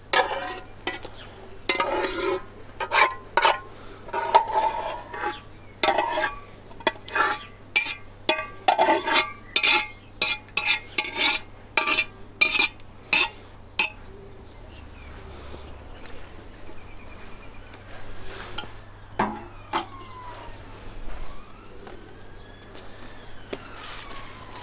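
Homemade yoghurt made in a Ninja Foodi being tipped and scraped into a bowl: a run of sharp spoon scrapes and taps that thin out midway, leaving softer scraping and faint kitchen background.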